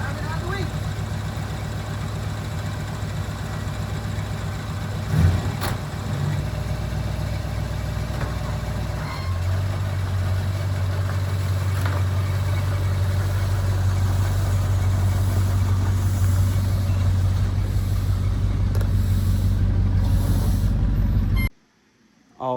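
An old Chevrolet C30 six-door dually truck idles with a steady low engine rumble, its pitch shifting partway through, while people talk over it before the sound cuts off near the end.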